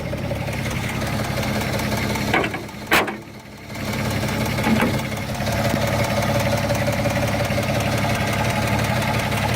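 A Holden FX car engine idles steadily with a low, even rumble throughout, broken by a couple of brief knocks and a momentary dip.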